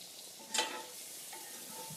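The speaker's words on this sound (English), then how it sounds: "All right, we got our onions cooking." Onions fry in a cast iron pan with a quiet, steady sizzle and a brief stir-like scrape near the start.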